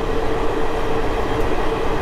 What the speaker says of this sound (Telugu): ట్రైన్ అయితే చాలా స్పీడ్ అయితే కొట్టేస్తున్నాడు